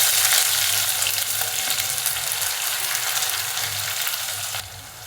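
Vegetables sizzle steadily in hot oil with mustard seeds, cumin, whole spices, cashews, onion, tomato and salt for palak rice, a continuous close frying hiss with light stirring that eases slightly near the end.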